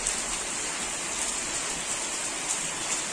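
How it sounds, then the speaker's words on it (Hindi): Heavy monsoon rain pours steadily outdoors in Uttarakhand near a mango tree and an overflowing roadside drain, a dense, even hiss with no pauses and no voices. "तो देखो कैसी बारिश हो रही है।"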